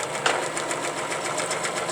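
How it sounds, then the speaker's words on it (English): A sewing machine stitches steadily while free-motion quilting a heart shape at the center of a quilt, a close, continuous mechanical hum with rapid, even needle ticking throughout and no one talking. "We're going to get started in the center of our quilting space and stitch a simple heart shape."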